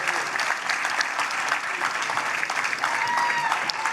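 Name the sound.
audience applause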